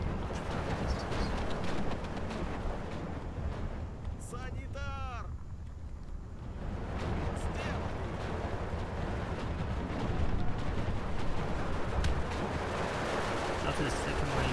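Mortar fire and shell impacts in the World War II strategy game Steel Division 2, a dense rumbling barrage of booms under a continuous roar of battle, with a whistling sound midway.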